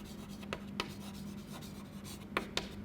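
Pen or pencil scratching across paper while writing out a math statement, quiet and close, with short strokes and taps at irregular intervals and a faint hum underneath.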